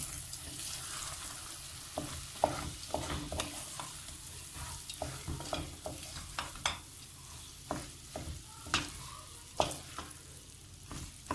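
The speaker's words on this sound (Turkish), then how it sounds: "Karıştırıyoruz." A spoon stirs food in a pan just after lemon juice is squeezed in, giving a series of sharp scraping and clinking strokes in an irregular rhythm over a faint, steady background, with no talking.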